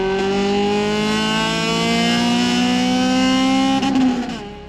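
A Honda Jazz fitted with a swapped Civic EP3 Type R engine drones at a steady, loud high pitch as it drives, holding the note for several seconds before easing off near the end.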